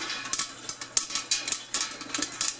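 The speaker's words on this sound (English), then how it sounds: "Still kind of popping away in there." Rapid, irregular pops and light rattles from popcorn popping inside a Great Northern Popcorn Company Twister metal kettle, a busy patter of sharp bursts, close by, no voices.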